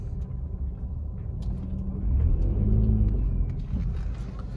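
A Maruti Wagon R CNG car accelerates hard from standstill toward 100, heard from inside as a steady, loud engine and road rumble that swells midway. There is no talk.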